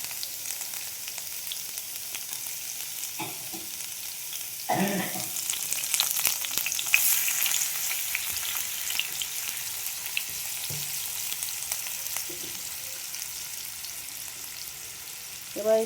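Chopped onion sizzles steadily in a hot pan, a continuous hiss with a surge of louder frying partway through and a few soft stirring knocks, no voices.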